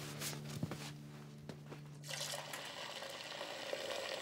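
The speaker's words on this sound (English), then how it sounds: "I'll fill up your water bowl" Tap water runs into a dog's water bowl, a faint hiss that swells into a fuller splashing pour after a couple of seconds, with a few small clinks at the start.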